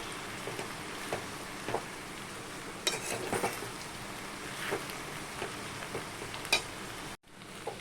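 Pasta is stirred with black pepper in a hot pan, a soft continuous sizzle broken by scraping and clinking stir strokes, ending abruptly.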